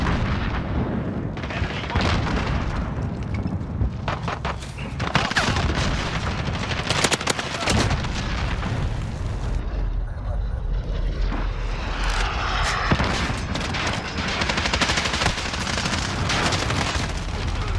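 Gunfire rattles on the Shoot House map of Modern Warfare, with dense automatic bursts, heavy explosions and aircraft engine roar layered continuously at loud volume throughout the match.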